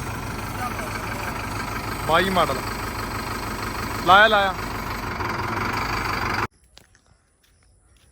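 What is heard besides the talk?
tractor engine idling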